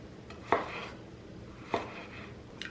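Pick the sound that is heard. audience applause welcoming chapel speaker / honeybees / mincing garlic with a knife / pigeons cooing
mincing garlic with a knife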